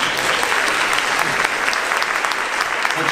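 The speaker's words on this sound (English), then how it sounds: "You can give her some applause." Brief, dense audience applause during a mentalist's stage show for a volunteer called up from the crowd, steady and full throughout.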